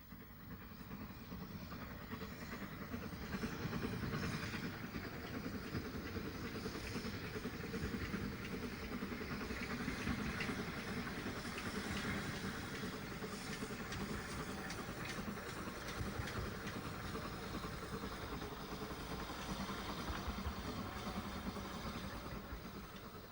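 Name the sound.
SECR P-class steam locomotive train on Kent and East Sussex Railway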